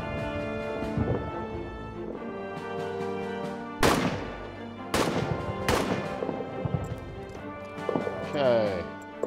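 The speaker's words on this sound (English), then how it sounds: "while the rest of you provide general suppressing fire" Gunfire in a World War I trench video game: sharp gunshot cracks ring out among horse hoof clip-clops and dense game effects, with voices talking over the busy battlefield mix.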